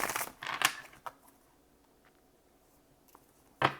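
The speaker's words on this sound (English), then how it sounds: "So let's get one more shuffle and then we'll jump right in." Crisp bursts of tarot cards being riffled and shuffled, with quiet pauses and a final flurry at the end.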